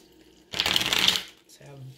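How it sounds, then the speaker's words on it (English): A quick burst of tarot cards being riffle-shuffled, close and crisp, lasting under a second, followed by a brief low voice. "Let's have two more shuffles."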